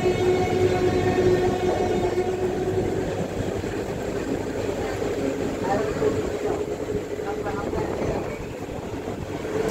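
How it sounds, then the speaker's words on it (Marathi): A train pulling out of Dharmapuri railway station in Tamil Nadu from platform 2, on a Bengaluru to Tamil Nadu run, gives a steady, loud rolling rumble with faint humming tones and some voices in the background. "1 मिनिटाच्या स्टॉप नंतर आपली ट्रेन धर्मापुरी रेल्वे स्टेशनहून निघालेली आहे"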